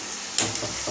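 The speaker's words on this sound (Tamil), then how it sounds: "நல்லா வெந்துருச்சு சலசலன்னு சவுண்ட் கேக்குது" Food sizzling as it cooks in a pan, a brief steady hiss with a sharp spatula clink partway through, close and moderately loud.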